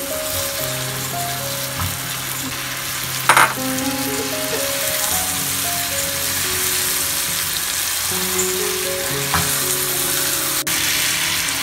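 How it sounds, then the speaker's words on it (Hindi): Chicken sizzles steadily in a hot pan while being fried for tea biryani, with a brief clatter of stirring partway through and faint music in the background. "अब इसको अच्छी तरह से भूनें। अभी डाल दें चिकन,"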